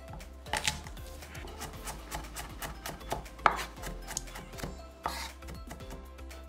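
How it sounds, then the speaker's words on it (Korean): A knife chopping shishito peppers and whole garlic cloves on a board, a run of quick, irregular close thuds and taps with a few sharper strikes, heard alone. "꽈리고추 6개는 굵게 어서 썰기, 통마늘 4개는 굵게 다지세요"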